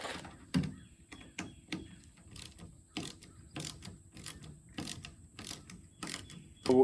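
Ratchet snugging window regulator bolts on a 2005 GMC Sierra, rapid rhythmic clicking bursts repeated over several seconds, close-up and clear with no talking.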